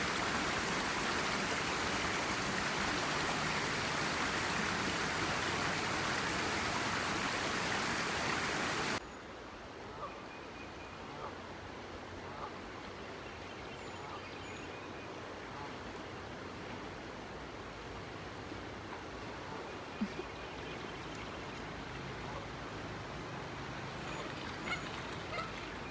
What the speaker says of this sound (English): is my favorite spot along this little river.